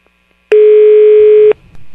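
A telephone line sounds a single loud, steady tone for about a second after a faint click, followed by low line noise and a quieter hum, heard before a prank call.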